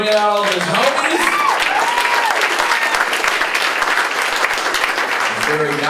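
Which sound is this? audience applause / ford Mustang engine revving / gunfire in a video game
audience applause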